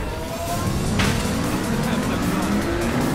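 Car engine droning steadily and loud in the racing game Sonic All-Star Racing Transformed, with a rising whine and tire noise, and a voice talking faintly underneath.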